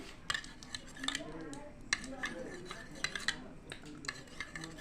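A spoon scrapes and clinks against a bowl while stirring a tamarind mixture with a pinch of salt for chotpoti, in quick repeated strokes close by with faint voices behind.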